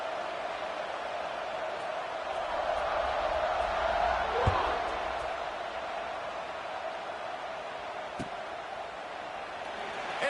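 A college football stadium crowd keeps up a steady, broad roar ahead of a kickoff, with a deep thump near the middle. A commentator speaks over it.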